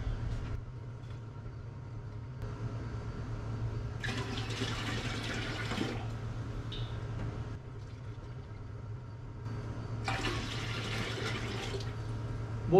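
Water for brewing a honey ale beer kit is poured into a measuring container in two separate splashing runs of a couple of seconds each, over a steady low hum in a quiet room.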